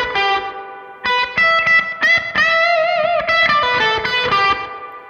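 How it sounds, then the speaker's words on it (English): Slow electric guitar rendition of a rock solo phrase, with driven, effects-colored lead tone, bent notes and vibrato ringing in loud, sustained bursts, played alone without talk. "Either way, the whole phrase would sound like this slowly."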